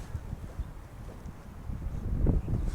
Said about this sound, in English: it's been real windy out here